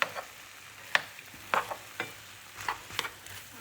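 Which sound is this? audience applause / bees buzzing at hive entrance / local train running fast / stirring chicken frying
stirring chicken frying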